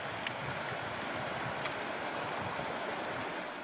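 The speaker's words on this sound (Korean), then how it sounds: "쌓인 눈 사이로 녹아내리는 개울물이 경쾌한 화음을 내는데요." Snowmelt stream flowing between snowbanks on a high mountain trail near a 4,167 m summit, a steady broadband rush of running water, continuous and even throughout with no voices.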